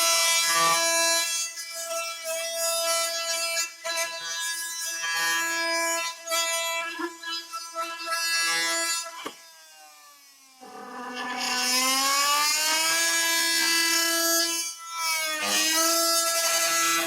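DeWalt oscillating multi-tool with a wide three-sided blade plunge cutting, a loud, steady, high-pitched buzzing whine that dips briefly mid-cut and then resumes at full intensity.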